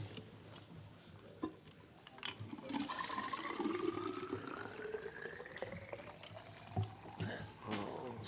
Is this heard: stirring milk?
no